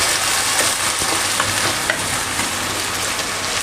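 Chopped fermented fish, pla ra made from small gourami, stir-fried in a hot pan, giving a continuous loud sizzle with steady scraping and stirring close up and no talking.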